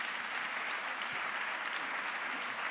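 An audience at a feminism workshop panel breaks into applause during a speaker's talk: a dense, even wash of many hands clapping that holds steadily throughout.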